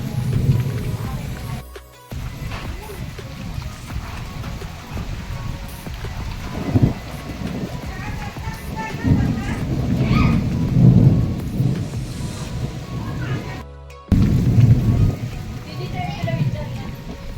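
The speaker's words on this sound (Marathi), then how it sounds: "इतका पाऊस आला जोरात. इतकी हवा आणि पूर्ण गरजते जोरात जोरात." Heavy rain with strong wind and loud thunder, heard from inside a room with windows and doors shut; a dense, continuous downpour with rolling rumbles and gusts throughout, and someone talks over it at times.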